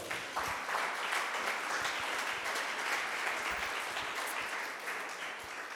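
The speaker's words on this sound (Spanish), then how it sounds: "Un aplauso a Jesús." A church congregation applauds steadily, a sustained wash of many hands clapping together at moderate distance, holding evenly throughout before easing slightly at the end.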